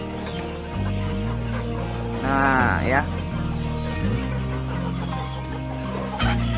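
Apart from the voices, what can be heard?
KUB chickens clucking in coop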